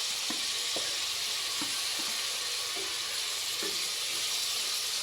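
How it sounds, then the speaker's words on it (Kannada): Sliced tomatoes fry in a hot pan, giving a steady bright sizzle with a few soft stirring clicks and taps scattered through it, close and fairly quiet, with no talking. "ಚೆನ್ನಾಗಿ ಇದನ್ನು ಸ್ಮ್ಯಾಶ್ ಆಗೋ ಗಂಟ ಚೆನ್ನಾಗಿ ಫ್ರೈ ಮಾಡ್ಕೊಬೇಕು."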